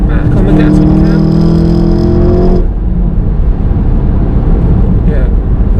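A VW Golf GTI engine pulls hard in third gear on the road, its tone climbing steadily for a few seconds before the throttle lifts and it drops to a low cabin rumble, with voices heard inside the car.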